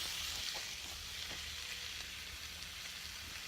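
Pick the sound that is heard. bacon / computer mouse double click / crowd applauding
bacon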